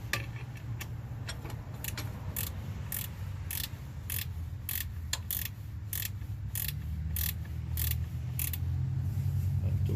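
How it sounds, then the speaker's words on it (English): A ratchet and wrench tightening a fitting on a 2009 Jeep Wrangler headlight, giving rapid rhythmic clicking bursts of the pawl over a low steady background hum, close up, with no talking. "I'm gonna tighten it up. Let's go with a ratchet and wrench."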